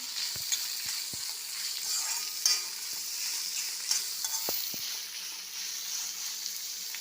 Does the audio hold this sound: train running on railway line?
no